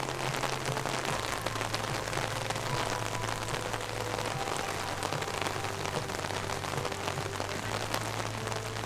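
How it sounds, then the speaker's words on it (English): Rain pours at Disney's Animal Kingdom, a dense, steady patter on hard surfaces with a faint low hum beneath, constant and close for several seconds without speech. "It's still raining"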